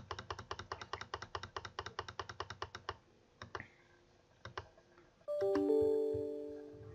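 A computer keyboard is typed on in a steady rapid run of crisp clicks, then a few scattered key taps, followed by a brief tonal chime near the end; no voice is heard.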